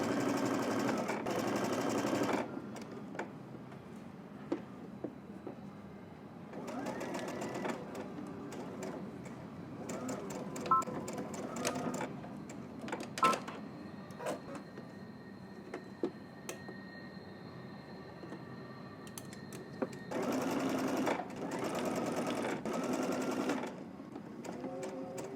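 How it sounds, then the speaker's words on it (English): Sewing machine stitching a seam with a 5/8 inch allowance, steady whirring runs of several seconds at the start, middle and end, separated by quieter stretches of clicks and handling, close and clear. "now we're going to head to the machine. We're going to stitch all the way across till we get to the edge"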